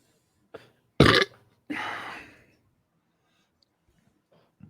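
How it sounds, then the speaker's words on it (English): A man lets out one loud, rough burp, followed by a longer, drawn-out belch, close to the microphone with brief quiet gaps between them. "A belch."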